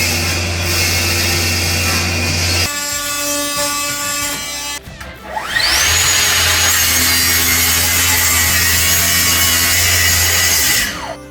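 A storage cabinet panel is cut to size during kitchen fitting, giving a loud, continuous rasping saw with a shifting pitch and a brief pause midway, with music and no talk.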